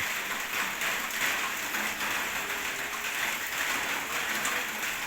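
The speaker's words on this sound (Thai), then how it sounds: "ทำามกลางสายฝนโปรยปลายครับ" Steady rain falls on the way back to a village home in Thailand, a dense, even hiss of drops that holds at a constant level throughout with no voices.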